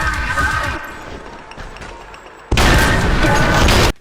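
Gunfire in the shooter Trepang2: loud, dense bursts of shots, with a rumbling stretch of quieter combat noise and talk in between, then a sustained, harsh volley near the end.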